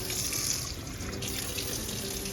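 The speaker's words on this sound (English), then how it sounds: "I gave it a couple of little rinses and I'm rinsing it now." Frozen berries, blackberries among them, rinsed under a running kitchen tap, a steady close hiss and splatter of water into the sink that holds without pause.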